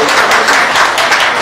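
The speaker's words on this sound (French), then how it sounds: "S'il vous plaît, applaudissez cette dame." Audience applause fills a Paris album presentation as a woman is introduced, a dense, steady clapping crowd sustained for a second and a half.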